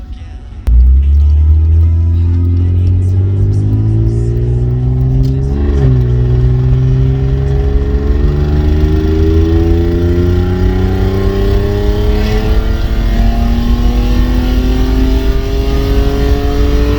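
A loud BMW E36 car drives, heard from inside with the window down: the engine pulls hard with rising pitch, eases briefly partway through, then keeps droning on at speed.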